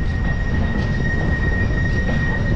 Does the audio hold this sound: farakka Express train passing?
yes